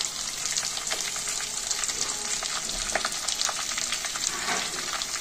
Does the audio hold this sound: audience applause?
no